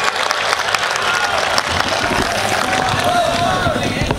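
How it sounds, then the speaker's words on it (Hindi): Enthusiastic applause from the audience at a Banaras kavi sammelan poetry gathering, crowded clapping rising and continuing steadily for a few seconds, with voices mixed in. "एक बार जोरदार तालियों से स्वागत कीजिए।"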